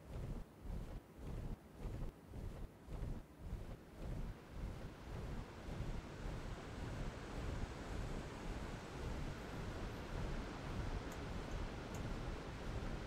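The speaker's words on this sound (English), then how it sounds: "Yeah, I don't think this is the correct waterfall." Waterfall in the video game ARK Lost Island, a steady rushing wash of falling water that starts out pulsing and then settles into a continuous roar, heard alone and fairly faint.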